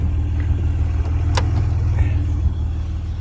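A 1996 Acura NSX-T 5-speed engine idling with a steady, loud, low rumble close by, smooth and unchanging throughout, no voices.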